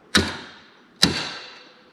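A hammer strikes a metal punch twice, about a second apart, to start a pilot hole while fitting a Chevelle shifter conversion to a GM transmission; each hit is a sharp, close metallic knock with a short ringing decay.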